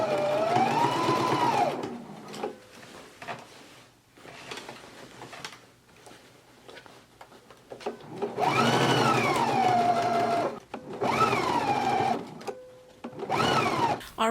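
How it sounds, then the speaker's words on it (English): Sewing machine stitching a 5/8 inch seam on a jacket sleeve, several bursts of fast whirring motor hum that rise and fall in pitch, separated by short pauses, close and clear with no talk. "we can go to the sewing machine and we can stitch it at a 5/8 of an inch seam allowance"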